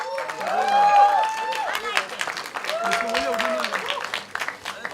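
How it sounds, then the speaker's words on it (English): A crowd at a Bollywood film trailer launch claps and applauds for the trailer, a fairly loud spread of clapping lasting several seconds, with a voice on a microphone talking over it. "A big round of applause for the trailer."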